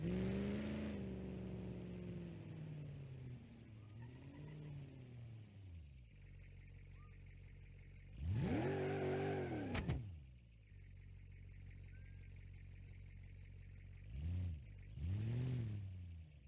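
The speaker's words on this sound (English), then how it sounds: "I wonder if this thing would be good in a burnout contest, or burnouts for distance." A car in the BeamNG.drive video game revs for a burnout, its engine note rising and falling in repeated surges, with a loud sustained roar midway and shorter revs near the end.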